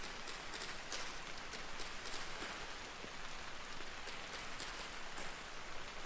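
Steady rain patters down in Vintage Story, a constant hiss of drops with faint dripping taps, even and unbroken throughout with no voices.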